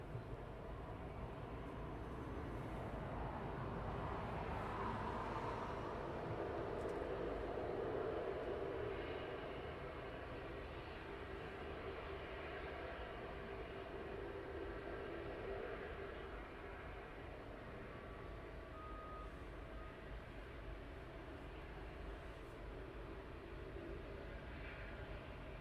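Propeller aircraft taxiing at East Midlands Airport at night, a steady droning engine rumble with a broad low hum that swells slightly in the first seconds and then holds at an even, moderately loud level throughout.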